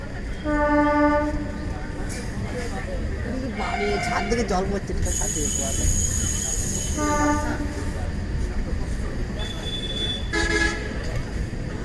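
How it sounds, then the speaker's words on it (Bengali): A passenger train running steadily with loud rumbling, its horn sounding in several harmonic blasts, the longest in the middle, while people talk close by. "ট্রেন কিন্তু ফাঁকা আছে এবার, শ্রীখণ্ড গিয়ে কি ভিড় হবে না, ট্রেন বিশাল ফাঁকা"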